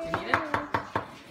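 Five quick, evenly spaced scrapes of a tool against a lemon's skin, each a short rasping stroke, close and fairly crisp, with no talking over them.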